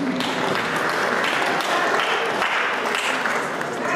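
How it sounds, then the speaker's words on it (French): Dense, steady applause from an audience at a wedding dance, a continuous wash of many hands clapping together, fairly loud and even throughout with no talk over it. "André Roger et Passy, qu'on applaudit aussi"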